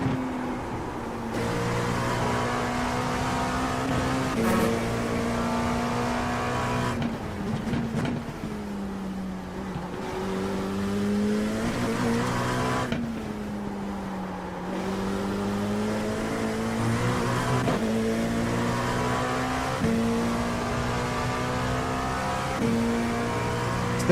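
An LMP2 prototype race car laps Sebring in iRacing, its engine droning loudly and continuously with rising revs through the gears, sharp downshifts and pitch dips for corners across the whole stretch.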